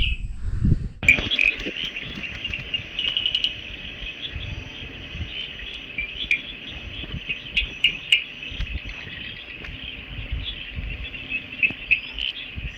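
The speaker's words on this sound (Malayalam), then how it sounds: "ഇതാണ് നമ്മുടെ കൂടാരം കൗണ്ടി റിസോർട്ട് അല്ലെങ്കിൽ ഹോം സ്റ്റേയുടെ ആ ഒരു നൈറ്റ് ആംബിയൻസ് കേട്ടോ" Night outdoors at a hillside homestay resort near Vagamon in Idukki: a continuous high shrill of crickets or insects, with a few faint bird chirps and small scattered knocks and rustles close by, and no voices.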